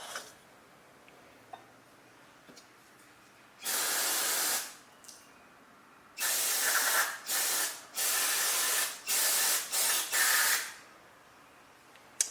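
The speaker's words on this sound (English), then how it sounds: "carb and choke cleaner, right? Carburetor and air intake cleaner." Aerosol carburetor and air intake cleaner sprayed onto the carburetor of a John Deere LA115 lawn tractor, in a series of loud hissing bursts of varying length separated by short pauses, with faint handling clicks between them.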